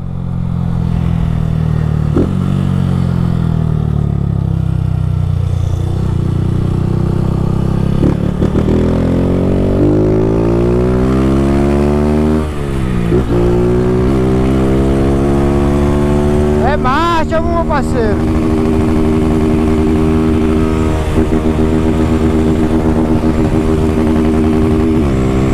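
A motorcycle fitted with an aftermarket exhaust revving hard at close range, its engine note climbing and dropping through several gear shifts during a night ride, loud and continuous throughout.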